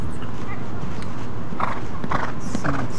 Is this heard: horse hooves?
yes